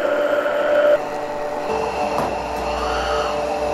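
A blender whizzes sugar, vanilla and milk with a steady motor whine that drops in pitch partway through and keeps running to the end, nearby and moderately loud.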